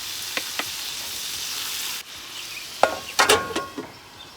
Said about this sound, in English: Cook the onions until they become translucent.